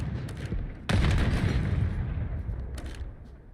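Gunfire bursts in a tactical first-person shooter match, a sharp loud shot at about one second followed by a rattling tail and later faint shots, all mixed with dense game ambience and commentary-style crowd noise.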